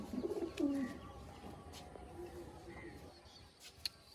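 Madrasi breed pigeons give a soft, low cooing, strongest at the start and then fading into quiet murmurs with a few faint chirps, heard close by in a calm setting.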